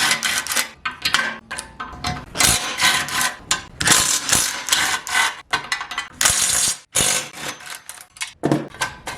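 A ratchet with an extension passed through the hub holes clicks away at 10 mm heat shield bolts on a K-series EK build, with busy, irregular metallic clicking and clatter in uneven bursts, close and fairly loud.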